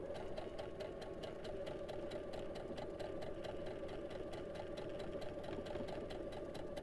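A sewing machine runs steadily, stitching through two fabric layers of a quilt block, with a continuous close whirring hum and rapid needle ticking throughout.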